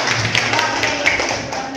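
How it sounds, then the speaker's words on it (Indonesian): A classroom group claps hands together in a steady, dense patter of many overlapping claps, fairly loud and close, with some voices mixed in. "Tepuk tangan."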